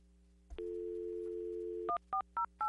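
Telephone call placed over a meeting room sound system: a steady dial tone holds for over a second, then a quick series of short dialing beeps in uneven rhythm, faint and alone.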